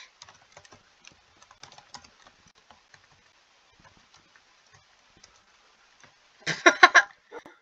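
Someone types a Minecraft chat command on a computer keyboard: scattered soft key clicks, then a quick loud cluster of keystrokes near the end, close and dry with no talking.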